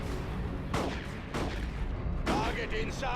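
Video-game gunfire in a sci-fi battle, with bursts of heavy booming shots and rattling volleys arriving in several waves over a continuous loud rumble, with a voice faintly underneath.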